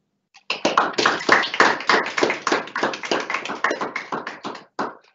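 A small group claps at a school assembly, about four seconds of sparse, close applause whose individual claps are clearly separate, starting abruptly and trailing off to a few final claps.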